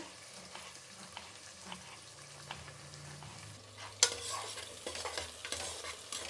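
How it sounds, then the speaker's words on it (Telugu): Long-sliced onions frying in a pan while being stirred, a soft steady sizzle with scraping stir strokes that grows louder and brighter midway, close and without talk. "ఇప్పుడు ఎర్రగడ్డలు బాగా వేగాలి"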